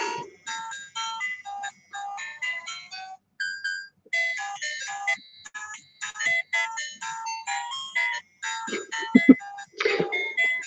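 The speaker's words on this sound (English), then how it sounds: "that is my alarm on my watch going off" A wristwatch alarm goes off with a quick repeating pattern of high electronic chirping tones that pause briefly and then start again, faint and close by, with some low murmuring toward the end.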